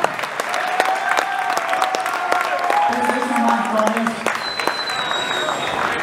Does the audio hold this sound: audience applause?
yes